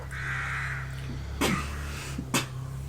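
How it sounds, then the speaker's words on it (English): Crow caws played as a sound effect during a tabletop game session: a sustained rasping caw, then two sharp short caws spaced apart, over a steady low hum. "The crows are coming for him."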